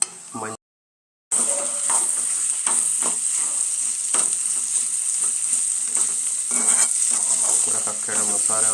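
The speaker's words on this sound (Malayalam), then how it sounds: "നമ്മൾ കഴുകി വൃത്തിയാക്കി വെച്ച കക്ക ഇതിനകത്ത് കൂട്ടിടുകയാണ്" Clams sizzle and fry in a pan with chilli powder, a loud continuous crackle broken by stirring scrapes and clinks after a brief gap near the start.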